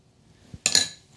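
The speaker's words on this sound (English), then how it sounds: "I'm gonna give it just a little tiny stir just to get it to go to the edges" A spoon taps and clinks briefly against a mug while stirring gluten-free sticky toffee pudding mug cake batter, a soft scrape followed by a bright metallic chink, close and alone.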